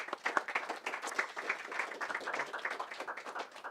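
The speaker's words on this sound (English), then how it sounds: "Let's applause all the speakers of this session." Quiet, scattered clapping from attendees of a robotics forum session, a sparse patter of hands applauding the session speakers, faint and somewhat distant.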